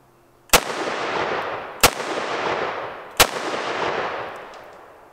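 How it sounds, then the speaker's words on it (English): Three sharp, loud gunshots fired at a target during outdoor firearms training, evenly spaced about 1.3 seconds apart, each followed by a long echoing decay. "Three shots to the head. One, two, three."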